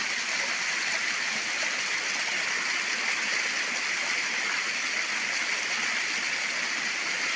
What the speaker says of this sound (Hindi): सारा पानी यहाँ से मस्जिद को जाता है